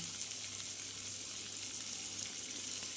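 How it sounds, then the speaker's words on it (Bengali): Pointed gourd sizzles in hot oil in a pan, a steady soft crackle and hiss running unbroken and fairly quiet throughout. "এবার পটলগুলোকে আমি হালকা লাল লাল করে ভেজে নেব"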